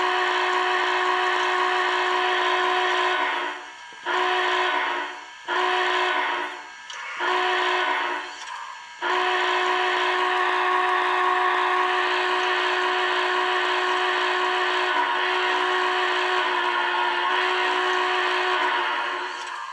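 A model Big Boy steam locomotive whistle sounds in several short choppy blasts, then holds one long steady loud tone that fades slightly at the end.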